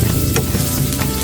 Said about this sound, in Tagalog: One tablespoon cooking oil in a hot frying pan. Put the garlic first, and then the red onions.